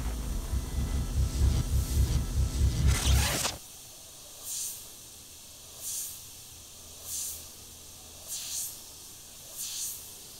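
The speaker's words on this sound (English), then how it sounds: "only minimal air flowing out of the front of the airbrush" A loud rushing hiss of air opens, then cuts off sharply, leaving a quiet background broken by about six short, regularly spaced soft puffs from an airbrush fitted with a Mac valve.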